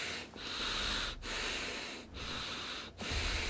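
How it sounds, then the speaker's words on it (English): Heavy breathing through the nose, picked up close on a very sensitive microphone: four long, rushing, wheezy breaths with brief quiet dips between them, loud and airy. "It's just me breathing through my nose."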